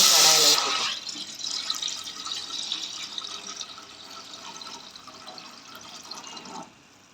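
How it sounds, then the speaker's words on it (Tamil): Thin coconut milk for semiya payasam is poured into a kadai pan, making a steady liquid trickle that starts with a brief splash and tapers off after several seconds. A person speaks over it. "இப்போ எடுத்து வச்சுருக்க தண்ணி பாலை நம்ம ஒரு கடாயில் ஊற்றிக்கலாம்."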